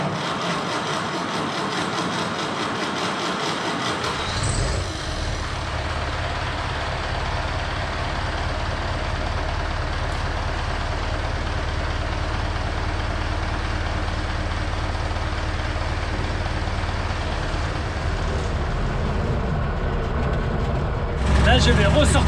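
A heavy diesel tractor fitted with ballast weights starts up and rumbles steadily while driving on the road, a low continuous drone close by, with a voice speaking over it.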